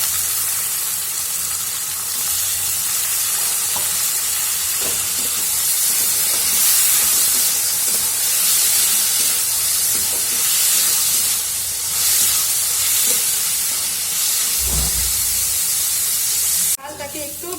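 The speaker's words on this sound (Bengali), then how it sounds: "এখন আমি মুসুরি ডালটা যে ধুয়ে রেখেছি সেটা দিয়ে দিচ্ছি। ডালটাকে একটু ভেজে নেব।" Washed red lentils fry with onions in a hot pan, a steady loud sizzle and hiss running throughout with occasional scraping stirs, ending in a sharp clatter.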